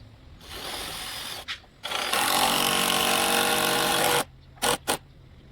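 An impact gun drives a 3.5-inch screw while installing pergola accents: short whirring bursts, then a longer sustained run of loud rattling hammering, ending with two quick trigger pulses.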